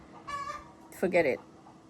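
Hardy chickens on a farm in Ghana giving two short clucking calls close by, the second louder and more clipped, with quiet background between them.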